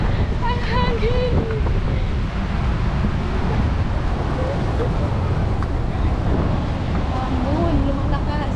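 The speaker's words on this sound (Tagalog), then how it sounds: "Ang hangin!" Strong wind buffeting the microphone at a beach in Baler, Aurora, Philippines, a constant loud rushing roar with surf beneath it, while people's voices talk and call faintly through the gusts.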